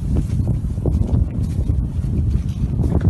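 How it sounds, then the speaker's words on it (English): Strong wind buffets a lake bay during pike fishing, a steady, loud rumbling roar of gusts hitting the microphone with no break across the whole stretch. "the wind's changed and it's really hacking in here"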